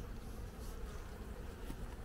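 Honeybees drone in a close, steady buzz at a spring apiary in Artvin, a soft continuous hum with faint wing flutters and no voices.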